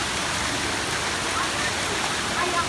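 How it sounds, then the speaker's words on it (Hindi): Heavy rain pouring down in a dense, continuous broadband hiss that stays steady and fairly loud with no breaks. "बारिश और दोस्तों तेज़ हो गई है, बड़ी हैवी रेन हो रही है।"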